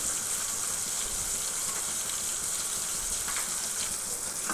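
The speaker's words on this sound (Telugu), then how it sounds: "మీడియం ఫ్లేమ్లో పెట్టి లైట్ గోల్డెన్ కలర్లో వచ్చేంత వరకు బాగా ఫ్రై చేసుకోవాలన్నమాట." Chicken popcorn frying in hot oil on a medium flame, a steady loud sizzle and hiss that keeps going without a break.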